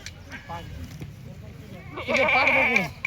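Goats bleat loudly at a rural goat market in Jawala, a rising, wavering cry near the end over a busy background, with people talking earlier.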